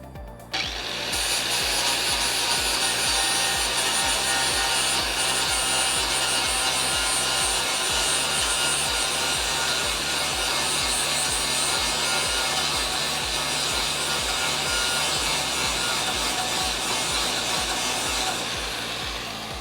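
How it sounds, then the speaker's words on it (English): An angle grinder fitted with a flap disc works on metal during a Dodge Charger crew cab restoration, giving a loud, continuous grinding roar with a steady pulsing undertone that runs almost the whole time without a break. "Let me get the grinder out."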